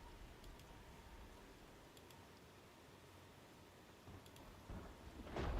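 Video game rain, from Project Zomboid, hisses with a low rumble of thunder underneath, faint and continuous, swelling slightly louder near the end.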